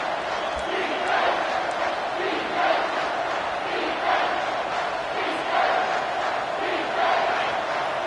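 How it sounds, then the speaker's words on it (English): A stadium crowd roars in the college football video game NCAA Football 25, a steady, loud sustained swell that rises and falls in waves over the full stretch. "This crowd rising up, sensing that its defense needs some help."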